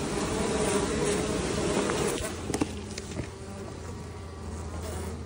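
Honey bees buzzing around an opened hive during a queen release, a dense, continuous swarm hum close by, with a few faint knocks and handling sounds partway through and no talk.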